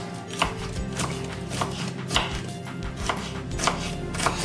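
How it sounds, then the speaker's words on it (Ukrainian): Knife chopping bell pepper on an acacia wood cutting board, steady rhythmic knocks of the blade striking wood, close and clear with no talking. "Перчик поріжу."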